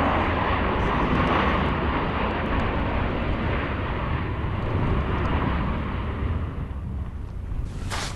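A continuous deep roar of a volcanic eruption with broadband rumble holds steady for several seconds, loud and unbroken, then eases slightly near the end.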